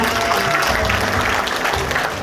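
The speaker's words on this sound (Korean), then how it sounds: "여러분들께서도 공감하신다면 다시 한번 큰 박수를 부탁드리겠습니다" Audience at a campaign office opening applauds, a loud continuous clapping with some crowd noise that tails off slightly at the very end.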